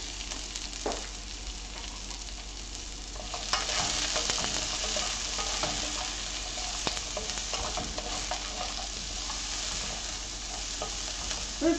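Carrots and peppers fry on a stovetop in a steady, close hiss that never lets up, broken now and then by faint clicks and stirring scrapes. No one speaks.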